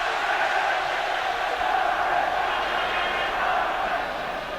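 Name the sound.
football stadium crowd cheering at AZ Alkmaar v Ipswich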